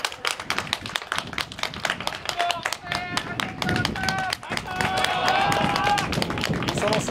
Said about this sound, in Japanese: 激戦を戦い抜いた両チームの選手に今一度温かい拍手をお送りください。